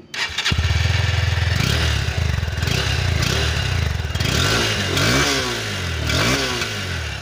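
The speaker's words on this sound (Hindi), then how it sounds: "चलिए गाइज अब इसका एक एग्जॉस्ट का नोट भी सुन लेते हैं ऑन करते हैं" A 2024 Honda Hornet 2.0 E20 motorcycle starts up and idles with a steady exhaust note, then is revved in a few rising and falling blips, loud and close.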